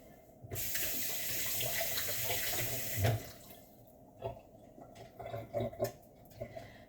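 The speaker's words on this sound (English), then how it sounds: "That's why I'm like repetitively rinsing" Peeled eggs are rinsed under a running kitchen tap, with a steady close stream splashing for most of the clip before it eases into intermittent splashes and trickles.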